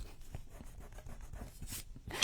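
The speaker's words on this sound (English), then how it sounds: "I'm going to erase it." An eraser rubbing out a pencil line during a rub-on transfer craft project, giving soft, rapid scrubbing strokes in an uneven rhythm, close and quiet.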